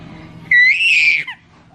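A baby girl lets out a single loud high-pitched squealing scream lasting under a second, close to the microphone, followed by a short softer trailing note.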